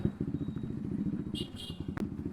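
A motorcycle with a loud, unmuffled exhaust idles at low revs in a busy main market, giving a steady, throbbing rumble under a man's speech.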